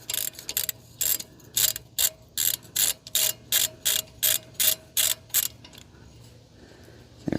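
A hand ratchet loosens a bolt on an IAG Rock Armor rear shock skid plate, giving about a dozen crisp, evenly spaced clicking bursts close by, then falling quiet near the end.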